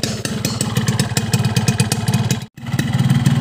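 A cold two-stroke motorcycle engine idles through an SPC 2T Alpha exhaust, running on Pertalite petrol, with a rapid, uneven, popping putter close by. It drops out for a brief instant partway through, then picks up again.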